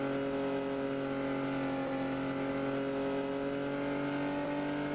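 A Jeep engine in the zombie survival game Unturned whines steadily at a constant loud pitch, with tonal bands holding level throughout and no voices.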